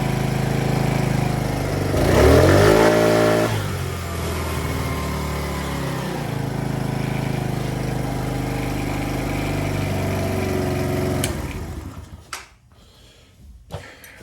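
A Polaris Outlaw 50 ATV's small engine runs close by and revs up sharply around two seconds in, settles back to a buzzing idle, then dies off around twelve seconds into a few quiet clicks.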